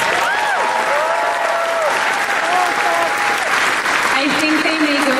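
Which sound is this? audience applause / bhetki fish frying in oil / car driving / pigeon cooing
audience applause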